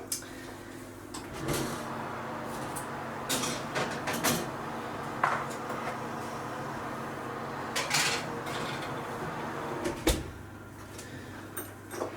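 Trays and cookware clatter in a home kitchen as a tray of plant-based Aussie Bites snacks goes into the oven, with several sharp clunks and knocks scattered over a low steady hum, close and fairly quiet.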